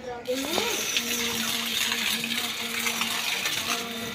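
A hose pipe sprays water over a courtyard floor after morning sweeping, making a steady, fairly loud rushing hiss that runs through the whole stretch with a faint tonal hum underneath.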